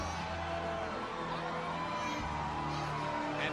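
Wrestling arena crowd at an Undertaker match, a dense continuous roar of cheering and shouting fans with whoops rising above the steady din.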